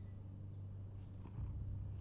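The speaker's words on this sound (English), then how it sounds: "I was wondering when the cat was going to show up." A cat purrs steadily and close in Telltale's Batman video game, a low continuous rumble with no talking over it.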